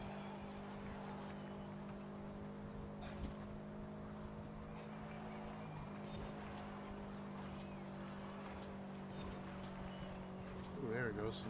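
Car engine in the racing video game Forza Horizon holds a steady drone through a drift, with tire or engine pitch wobbling near the end; a voice talks over it.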